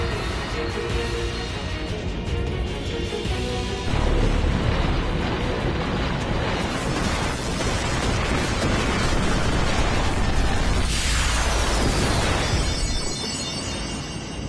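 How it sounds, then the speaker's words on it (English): Sin Spawn monster explodes in the video game Final Fantasy X during a boat battle: a dense, sustained roaring blast with crackling debris and a descending whoosh, loud and continuous for many seconds under game music. "Really interesting explosion. The Sin Spawn like shrunk and then exploded."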